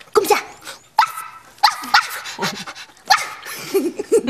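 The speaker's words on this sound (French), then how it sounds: "Mais il peut quand même japper très fort. Comme ça." A chihuahua yaps repeatedly at close range, sharp high-pitched barks in quick bursts, about five or six in a row.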